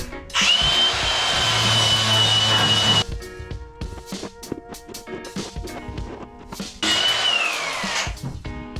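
A power tool grinds mill scale and rust off steel tubing in two loud, high-pitched whirring bursts. A quieter stretch of clattering and handling noise separates them.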